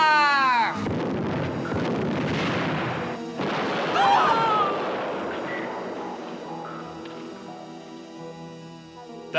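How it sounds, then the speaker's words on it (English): Cannon fire in an animated children's adventure set among musketeers and the Royal Army: a loud blast rolls into a long rumbling boom with crashing debris, followed by a fading swell of music. "Come on, Dogtanian, give the order to fire."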